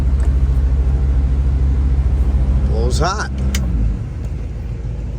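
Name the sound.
1971 Oldsmobile 442 W-30 engine running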